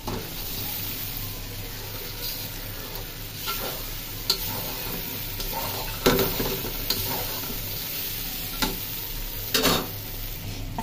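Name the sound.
egg sizzling as it fries in spiced masala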